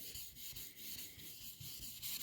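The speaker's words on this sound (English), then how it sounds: "just start sanding back and forth, side to side, real light" Soft, steady rubbing of wet sandpaper by hand on a car's clear coat, a faint rhythmic back-and-forth hiss repeating several times per second, close and quiet.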